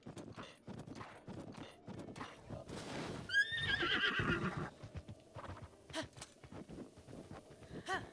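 In a Zelda game, a horse gives one loud, clear whinny over rhythmic hoof clip-clops on a rocky mountain trail.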